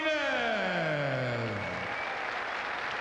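A boxing arena crowd applauds the challenger Ray Rocky Martinez before a WBO junior welterweight title fight, steady broadband clapping under an announcer's long, falling, drawn-out call.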